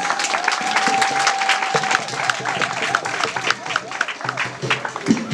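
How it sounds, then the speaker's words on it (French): A festival crowd in Paris gives an ovation, steady loud clapping throughout with crowd noise and a faint sustained tone underneath, some uneven bursts toward the end. "je voudrais qu'on donne une grande ovation, qu'on applaudisse"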